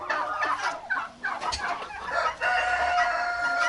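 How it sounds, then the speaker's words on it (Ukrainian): Naked neck hens clucking and squawking close by with a naked neck rooster crowing among them, a busy, continuous barnyard chorus with no talking. "Оцей півник голошейка з теплиці."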